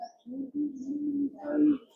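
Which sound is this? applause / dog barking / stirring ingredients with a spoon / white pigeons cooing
white pigeons cooing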